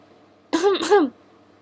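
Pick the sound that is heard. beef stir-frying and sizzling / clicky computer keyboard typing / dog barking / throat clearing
throat clearing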